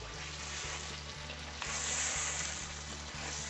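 Chicken pieces sizzle loudly in a pan while being sautéed in ground bata masala with small splashes of water, a steady close frying hiss with rhythmic stirring scrapes.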